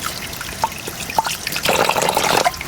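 Small anchovies are rinsed under running water, with a steady trickle and splash close by. Droplets patter faster and louder in the second half, and there is no talk.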